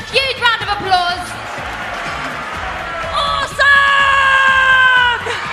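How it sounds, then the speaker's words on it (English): A crowd at a UCMMA mixed martial arts event whoops, yells and cheers loudly, with high shouting voices rising over a background roar in bursts. "can everyone give them a huge round of applause?"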